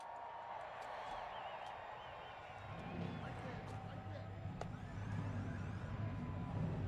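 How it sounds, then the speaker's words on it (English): Stock race car engines starting at Talladega in a racing video game, a low rumble that swells after a few seconds beneath continuous commentary. "Cars fired up here at Talladega"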